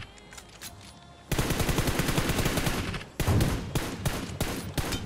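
Rapid automatic gunfire from a battle royale shooter game, dense bursts of repeated shots firing loud and close, pausing briefly around the third second before resuming, with no voices over it.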